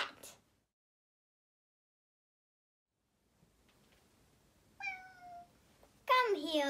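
A cat gives a short meow partway through after near silence, followed by another louder vocal burst at the end; a voice is briefly heard at the start.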